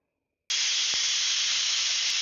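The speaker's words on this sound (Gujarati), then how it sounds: "અહીંયા કુકરમાં 3 સીટી થઈ ગઈ છે।" A pressure cooker cooking potato curry lets out steam. After half a second of silence, a loud, steady, close hiss starts and runs on without a break.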